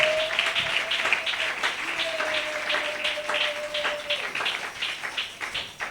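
A church congregation at a worship service applauds, a dense, steady clatter of many hands clapping close by, with a sustained tone running beneath it.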